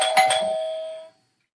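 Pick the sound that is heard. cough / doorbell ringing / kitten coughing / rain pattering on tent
doorbell ringing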